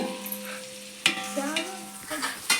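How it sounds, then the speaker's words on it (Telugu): Onions fry on high heat in a pan for vegetable biryani, a steady close sizzle with a few sharp spatula knocks as they are stirred. "దాన్ని బాగా ఎర్రగా కాలేదాకా దాన్ని మనం ఫ్రై చేసుకుంటూ ఉండాలి."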